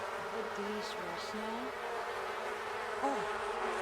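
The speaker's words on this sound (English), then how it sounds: "Okay, and then we bond with the bees. I think they'll start to make us wax." Bees from a bee box in The Sims 4 buzz in a steady, layered drone, with small rising and falling hums over a constant game ambience.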